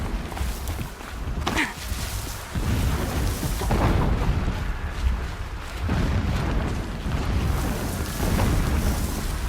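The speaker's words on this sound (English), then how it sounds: "Explosions in the distance." Heavy, rumbling booms from the video game Horizon Zero Dawn roll in one after another, distant and muffled, with a continuous low thunder-like rumble between them.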